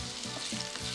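Green chilli paste hitting hot oil, a brief dense crackling sizzle close up, with no voices.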